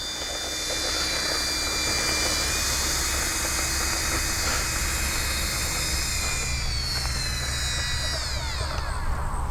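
A jet-powered FGFRC Aeroscout RC airplane runs its turbine without a break, giving a loud steady roar with a high whine on a Central Florida morning. The pitch shifts and sweeps toward the end.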